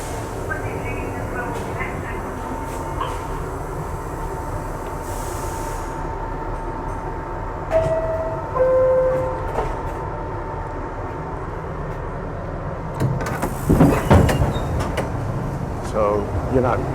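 A New York City subway train carries a steady low rumble of rolling wheels, with brief squeals and clanks, a short two-tone chime around the middle, and a louder burst of rattling near the end.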